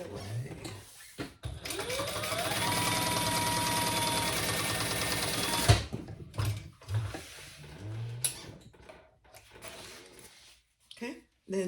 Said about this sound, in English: We're gonna top stitch along the zipper.